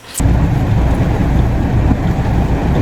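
Heavy rain and wind pound outdoors in a loud, continuous roar that starts abruptly and holds steady throughout, with no voices.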